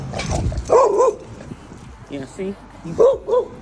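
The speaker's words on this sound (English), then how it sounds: "He's barking." A pit bull barks and yelps a few times nearby, short tonal bursts in two clusters, while a person speaks briefly.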